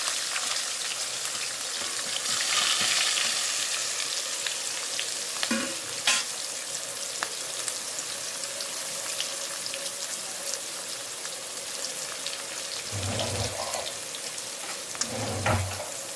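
Thinly sliced onions, four green chillies and curry leaves sauté in hot oil with a steady crackling sizzle, with occasional louder pops and scrapes of a stirring spoon near the end. No one talks.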